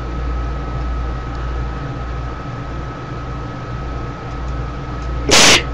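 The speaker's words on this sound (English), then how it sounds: "I hate sneezing." A single sharp sneeze bursts out near the end, loud and close, over a steady background hum of air or machinery.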